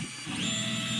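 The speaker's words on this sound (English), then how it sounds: "The printer has now started printing" A Creality Ender 3 Pro 3D printer begins a print with a steady mechanical whir from its stepper motors, and a tone rises in pitch as the head starts moving.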